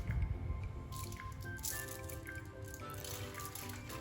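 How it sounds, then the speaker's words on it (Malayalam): A glass tray set down into a metal pan holding a little water, giving a short clatter and rattle at the start, then quieter scraping and faint watery sounds as it settles, close by. "ഇനി ഈ ഗ്ലാസ് ട്രേ വെള്ളത്തിനകത്തേക്ക് വെച്ച് കൊടുക്കാം"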